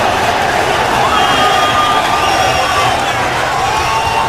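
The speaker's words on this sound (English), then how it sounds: "we are set in front of an enthusiastic crowd here at the ARCO Arena" An enthusiastic crowd packs ARCO Arena before a bantamweight title boxing match, a dense roar of cheering and babble filling the hall continuously, with scattered shouts and whistles rising out of the wash.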